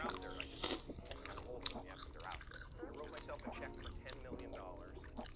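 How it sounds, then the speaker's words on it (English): Close-up eating of mussels and French fries dressed with Parmesan and dried parsley, with wet slurps, bites and chewing running throughout and people talking over them. "you guys are probably gonna hear a lot of slurping noises for today's video"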